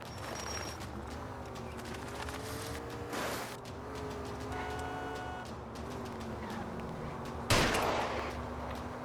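Gunfire at a fleeing car's tires in the game L.A. Noire: two sharp, loud shots several seconds apart ring out over a steady car engine hum.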